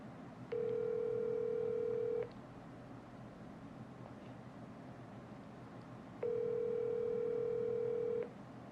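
Telephone ringback tone heard as two long steady beeps a few seconds apart, clean and fairly quiet over faint background hiss, with no talking.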